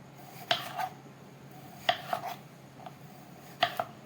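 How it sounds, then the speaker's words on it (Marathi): A knife finely chopping potato on a board in a home kitchen, with three clusters of crisp, close taps spaced a second or so apart over a quiet background. "बटाटा मस्त बारीक चिरून घ्यायचा."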